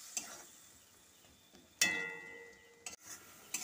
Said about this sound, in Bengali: আবার একটু মশলাটা কষিয়ে নেব।